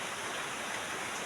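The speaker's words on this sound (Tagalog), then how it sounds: "Kasi umuulan" Rain falls steadily in a rural countryside setting, making a constant, even hiss with no pauses and no voices.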